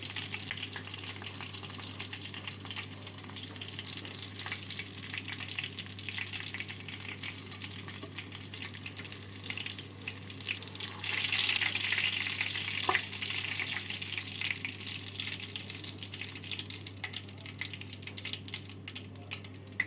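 Prawns fry in a pan, giving a steady, moderately quiet sizzle throughout. Faint stirring and scraping sounds come in over it, and a low constant hum sits underneath.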